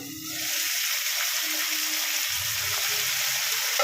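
Charsi chicken sizzles loudly in a pan over high heat, a steady, close hiss of frying with a faint low rumble underneath.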